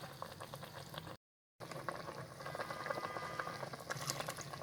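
Water is poured into a yogurt korma mixture in a pot while making degi chicken korma, giving a continuous bubbling, gurgling liquid sound that cuts out for a moment and then resumes.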